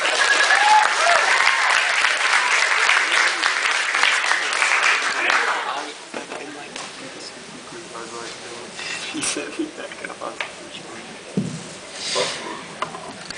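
High school audience gives a round of applause, a loud dense burst of clapping for about six seconds that then drops to scattered claps, shuffling and quiet murmurs.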